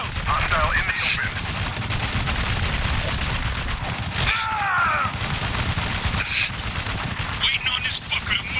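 Dense, continuous gunfire from a military shooter game, Spec Ops: The Line, with heavy sustained bursts filling the whole span and brief shouted voice callouts breaking through.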